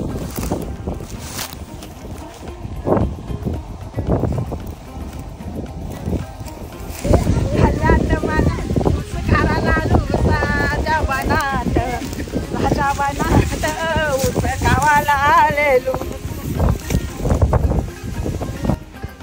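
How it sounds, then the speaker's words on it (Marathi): Strong wind buffets the microphone with a constant low roar, while voices talk over it in the second half. "मस्त गोळ आहे वारा फुल आहे बघ"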